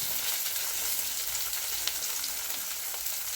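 Sambar onions and green chillies sautéing in a pan for a Chettinad okra mandi, a constant close sizzle with light popping that holds evenly throughout, no voices.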